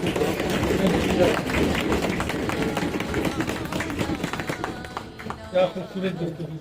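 Audience applause at the close of a televised Pakistani discussion program, a dense, steady wash of clapping from a crowd that carries on for several seconds before thinning toward the end.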